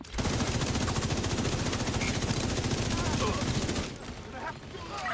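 Turret gunfire in a video game: a loud, sustained rapid burst of rhythmic shots lasting several seconds, then cutting off into quieter background noise.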